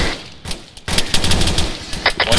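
A firefight in the Arma 3 military video game on a ridge line, with loud, close rifle and machine-gun fire in rapid overlapping bursts after a brief quieter moment.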